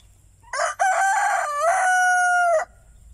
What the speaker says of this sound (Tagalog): Yan ho, ang tandang na Black Astrolorp.